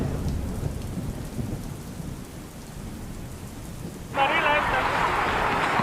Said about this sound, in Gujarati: રાજકોટમાં અનરાધાર વરસાદની શરૂઆત થઈ ચૂકી છે